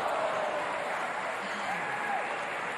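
Squash match crowd applauding steadily at a professional women's match, a dense, even wash of clapping that holds at constant loudness throughout with no pauses.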